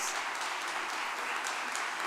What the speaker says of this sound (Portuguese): Mais alto, palmas para eles.